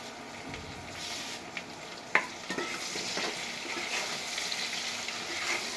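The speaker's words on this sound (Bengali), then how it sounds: "ঠিক এইভাবে নেড়ে চেড়ে নেবেন। বেগুনটা একটু হালকা ভাজা ভাজা হবে" Eggplant fries with a steady sizzle while a utensil stirs it, giving occasional scraping clacks against the pan.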